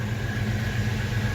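A 1998 Chevrolet S10 ZR2 4x4 pickup engine idling steadily, a loud, even low rumble with a faint whine on top, close to the microphone, no talk.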